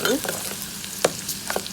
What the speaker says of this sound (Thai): เราก็ผัดในน้ำมันหมู